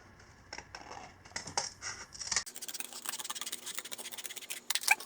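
Scissors snip along a marked line while a lower cover is made for a Sur Ron Light Bee dirt bike. The snips are quiet and close, coming slowly at first, then in a quicker, denser run.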